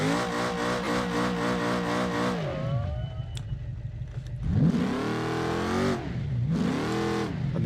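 Car engine revving in the driving video game Dangerous Road 2, with a steady high rev that drops away, then climbs again in two rising sweeps, loud and close with no talk.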